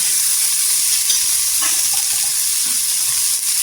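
Onion frying and softening in a pan gives a loud, close, continuous bright hiss with faint scraping of the stir underneath.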